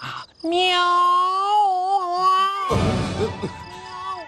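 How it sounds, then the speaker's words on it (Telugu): A long, drawn-out cat meow rising and wavering for about two seconds, followed by rougher, noisier sounds close to the microphone. "ఎదో పిల్లి సచ్చినది దీని."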